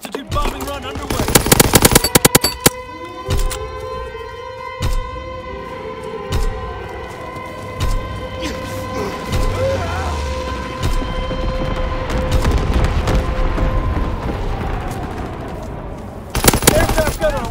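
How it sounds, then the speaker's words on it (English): Low-altitude carpet bombing run with gunfire in Call of Duty WWII: loud bursts of machine-gun fire at the start and end, a wailing siren-like drone, and repeated heavy thuds of bombs landing between them. "Carpet bombing run ready for target. Low altitude bombing run underway."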